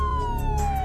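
A siren wails with a steady descending tone, fairly faint and heard briefly over low rumbling traffic noise.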